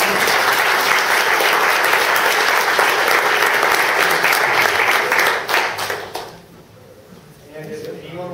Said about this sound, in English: I'd like to give a great big round of applause